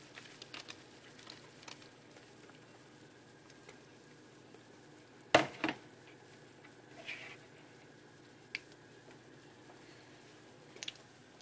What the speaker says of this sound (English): Alright, so I'm gonna go ahead and toss my shrimp in.